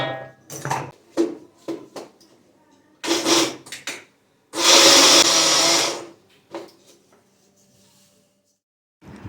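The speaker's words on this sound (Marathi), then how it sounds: "आता हे पटपट थोडं थोडं मिक्सरला लावून घेते" A mixer grinder whirs loudly for about a second and a half, grinding jaggery mixture for laddoos, with quieter clatter and voices before and after.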